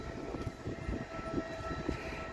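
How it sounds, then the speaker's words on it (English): A freight train rolls past at a distance, giving a steady, faint rumble with soft rhythmic clatter throughout. "There's a freight."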